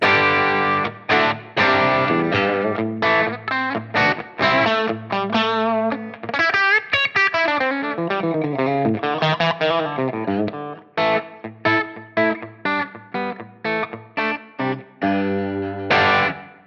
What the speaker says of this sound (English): Here I have my Vigier Expert Strat style guitar on the bridge pickup.